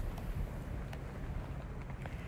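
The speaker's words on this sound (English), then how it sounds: "the wind has really picked up here" Strong wind buffets the microphone outdoors during a snowstorm in Shepherdsville, a steady faint rumbling roar with no voices.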